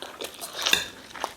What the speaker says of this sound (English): We are eating rice and stew today.